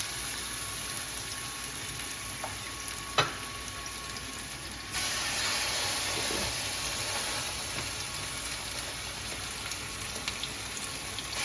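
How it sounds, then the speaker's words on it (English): Pesto and sun-dried tomato stuffed chicken sizzling in a pan, a steady, close hiss that swells suddenly partway through as more pieces go in and then holds at that louder level, with no talking. "And that's the sound you want to hear, that nice sizzle sound"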